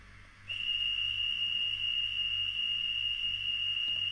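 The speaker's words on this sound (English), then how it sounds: "Conductor's whistle." A conductor's whistle from a Minitrix N-scale SBB/CFF/FFS freight train digital sound set, heard as one shrill, steady electronic whistle tone that starts after a short pause and holds unbroken for several seconds over a low hum.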